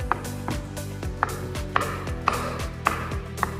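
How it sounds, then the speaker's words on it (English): Steady knife chops through mushrooms on a cutting board, about a dozen evenly spaced thuds with sharp clicks, close and alone without talking. "we're going to start off by finely chopping up 1 cup of mushrooms"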